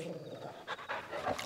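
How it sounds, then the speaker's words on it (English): A dog companion in Final Fantasy XVI pants in quick, soft bursts near the end of a short moment, fairly faint over quiet game ambience. "Good dog."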